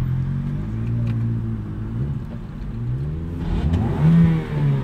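A car engine revs while driving, a loud, near mid-pitched drone that rises and falls with acceleration and climbs sharply near the end.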